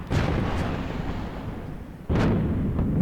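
A starship breaking apart from heavy hull damage in a Star Wars space battle game, heard as loud, continuous rumbling booms with a sharp burst partway through that pushes into a renewed roar.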